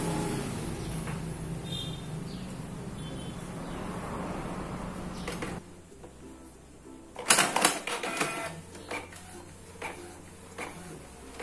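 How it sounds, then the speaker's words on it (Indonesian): An office printer, repaired after a paper-feed fault, runs normally and pulls in a sheet. A steady mechanical whir is followed by a clattering burst of feed and print clicks, fairly quiet and close, with no talk. "Dan akhirnya printer berjalan normal."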